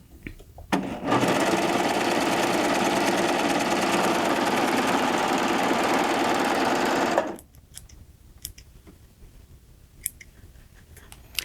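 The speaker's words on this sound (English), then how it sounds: "this is a pretty nice light fabric, and I'm going to stitch a 4-thread overlock" A Baby Lock Triumph serger sews a 4-thread overlock on light lining fabric, running as a fast, even, buzzing whir for about six seconds before stopping, followed by faint clicks and handling noises.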